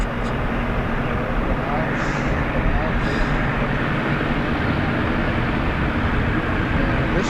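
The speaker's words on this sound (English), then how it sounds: "Only engine noise we have right now." A parked jet at Harrisburg International Airport makes a steady, loud engine roar that fills the whole stretch without a break.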